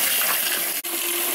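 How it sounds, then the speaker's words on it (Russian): Water gushes loudly from a tap to fill an aquarium for rinsing substrate, a close, steady roaring rush with a split-second break near the end. "Но вот получается шестой раз воду набирать"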